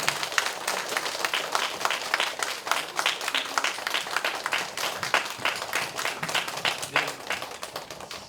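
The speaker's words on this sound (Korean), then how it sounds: "나오실 때 박수로 환영해 주십니다" A church crowd applauds a speaker with dense, steady clapping that holds at an even level for the whole stretch, with no voices over it.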